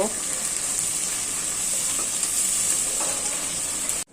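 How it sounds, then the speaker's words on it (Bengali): Ground nut paste stir-fried in a hot pan while making kacchi: a continuous, close-up sizzle with faint stirring movement that cuts off abruptly at the end. "এটা হচ্ছে বাদাম বাটা, এখন আমি এটা কষাবো।"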